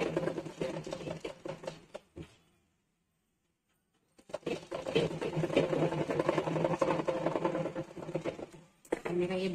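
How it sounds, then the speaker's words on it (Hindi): A sewing machine stitches a blouse neckline with a close, steady whirring rattle in two long runs separated by a silent pause. "अभी इसको हम ब्लॉक करके सिलाई चला दे"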